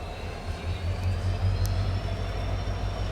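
A WDP4 diesel locomotive at Hubli station hauls DEMU passenger trains, giving a steady, loud low-pitched engine rumble that holds throughout with no break, heard alone without speech.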